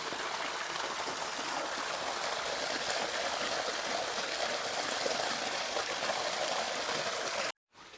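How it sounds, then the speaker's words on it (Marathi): Irrigation water flows steadily through a channel into a riverside wheat field, a continuous close-up trickling and gurgling that runs alone with no voices before cutting out near the end. "छान दिसते पाणी बघा, पाटाला झुळ झुळ झुळ झुळ पाणी."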